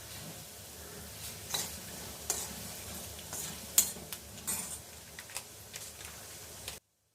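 Coconut oil sizzles in a pan with kalonji, peeled chopped ginger and fenugreek seeds: a steady crackling hiss broken by light spoon scrapes and clicks against the pot until the sound cuts off.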